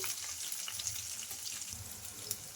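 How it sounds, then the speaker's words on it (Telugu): Garlic and chillies fry in oil, giving a steady, soft sizzle with light crackles and faint stirring, close by and without speech. "ఇవి బాగా ఫ్రై చేసుకోవాలండి"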